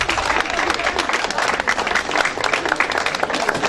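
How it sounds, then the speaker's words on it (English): A crowd at an awards ceremony applauds a speaker, with many hands clapping in a continuous, lively patter that stays close and steady from start to finish. "Give her a round of applause, please."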